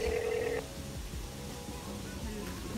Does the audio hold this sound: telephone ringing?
yes